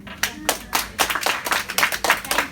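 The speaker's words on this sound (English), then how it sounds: "Let's give it a round of applause for our speaker of the day" An audience claps for a speaker at the close of a talk, producing a steady, fairly close patter of applause with no talk over it.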